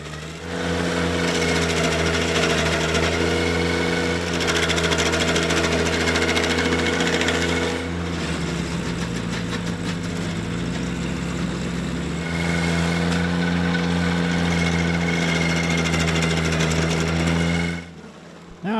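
A Baumalight stump grinder mounted on a subcompact tractor chews into a stump, its steady loud engine drone and whirring cutter running continuously, easing slightly midway before surging again and cutting off at the end.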